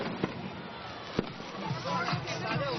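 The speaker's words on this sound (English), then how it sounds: "judging by the array of fireworks being set off on the banks of the Heilongjiang" Fireworks set off on a riverbank of the Heilongjiang, with a few sharp pops and crackles over a dense, noisy outdoor wash of crowd sound and voices.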